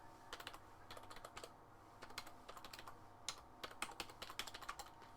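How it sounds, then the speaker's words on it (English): Fast, crisp clicking keystrokes on a SteelSeries Shift gaming keyboard, a steady run of close taps with short bursts and brief pauses, faint and with no voices. "And of course you can type normally on this keyboard as well."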